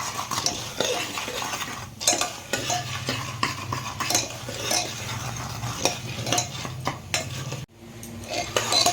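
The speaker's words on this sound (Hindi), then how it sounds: "तो इसको आपको ऐसे चलाते रहना है जब तक आपके मक्के के दाने फूटने ना लगे" Salted corn kernels with turmeric are stirred in a cooking pot for homemade popcorn, giving a steady scraping rattle with frequent sharp clinks of a utensil against the metal, close and continuous, with a brief pause near the end.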